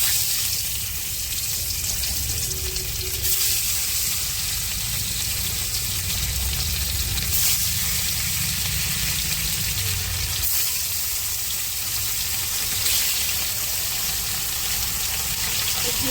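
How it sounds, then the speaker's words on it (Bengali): Bhola fish rubbed with salt and turmeric frying in hot oil in a wok, giving a steady, close hiss and crackle that runs unbroken throughout with no talk. "এখন মাছ কটা ভেজে নেবো"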